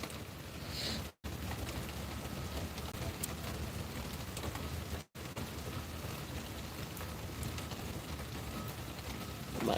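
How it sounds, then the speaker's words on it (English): Steady rain falls on a Thursday morning in Connecticut, a continuous close patter across the whole stretch with two brief dropouts, no voices over it. "It's raining. It's raining."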